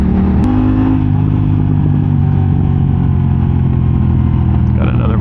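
An engine, likely a passing motorcycle, revs near a beach road by Newport Beach and Crystal Cove. It runs loud and steady with low harmonic drone throughout, and a brief rising rev comes near the end.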